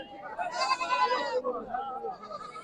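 Goats bleat at a livestock market for local goats, several wavering cries close by in quick succession over a short stretch, with a voice speaking among them.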